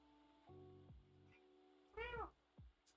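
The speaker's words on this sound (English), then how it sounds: "I hear a cat meowing." A pet cat meows repeatedly from behind a nearby door indoors, the cries moderately loud with a rising, wavering tone, one longer drawn-out call standing out among shorter ones, with no talk.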